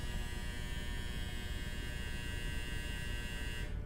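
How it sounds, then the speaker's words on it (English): A clothes dryer runs with a steady, continuous mechanical hum and whir at moderate level, unbroken and alone until it cuts off near the end. "Apologies, that was my dryer."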